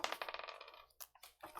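A coin tossed for heads or tails, landing with a quick series of bright metallic rattles and spins that settle, then a couple of soft taps, close and fairly quiet.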